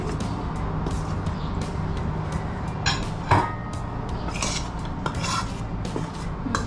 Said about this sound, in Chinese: 木薯粉，2个混合在一起，要混合它